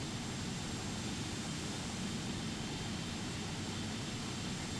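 Steady, distant roar of a jet airliner engine on takeoff from runway 09 right at London Heathrow Airport, a constant broadband rumble with no talk over it.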